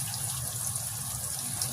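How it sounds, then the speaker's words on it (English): Cold tap water runs steadily into a kitchen sink to rinse fish, a continuous close hiss and splash with no break and no talking. "wash it with cold water"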